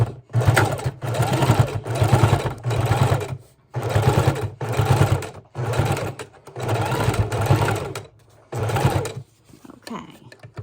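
A sewing machine stitches the signature of a homemade mini journal, running in repeated bursts of steady motor whir and needle chatter with short pauses between, close and loud.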